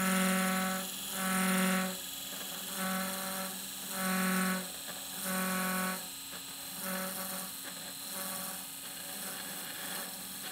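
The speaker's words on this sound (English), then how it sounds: "I need to make a parting cut down to 1 1/4 inches" A wood lathe hums steadily as a parting tool cuts into a spinning stool leg, the tonal whine swelling and easing in repeated passes of about a second each, close and alone.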